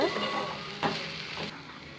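Okra and potato sautéing with masala in a pan, a soft sizzle broken by a few scraping stirs of a spoon, close and moderately quiet with no talk.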